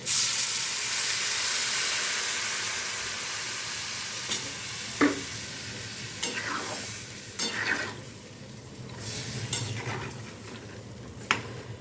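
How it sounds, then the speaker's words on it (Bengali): Water goes into a pan of taro pieces frying with salt and turmeric, setting off a broad hissing sizzle and steam. Scattered spoon scrapes and clinks stand out over a steady background of frying noise, with no talking. "এবার আমি দিয়ে দেবো পরিমাণ মতো জল"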